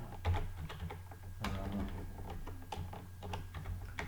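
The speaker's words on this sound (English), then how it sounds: "So then I will type there" Rapid keyboard typing on a computer while entering a title into a spreadsheet chart, irregular clusters of close, crisp key clicks with no talk.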